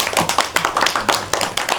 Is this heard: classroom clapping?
yes